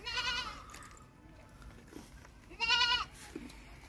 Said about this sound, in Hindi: ये देखें बिल्कुल जवान बकरी है